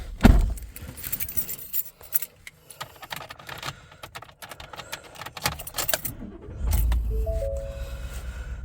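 Someone climbs into a work truck between leaf-removal jobs in a neighborhood: keys jangle and rattle near the start, followed by shuffling, clicks and door handling, then the engine catches and settles into a steady low idle.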